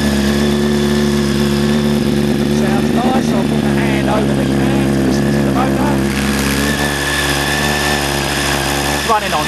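A Honda Fireblade motorcycle engine runs on choke at a raised idle, a loud, close, steady drone with a strong harmonic hum and small shifts in pitch throughout.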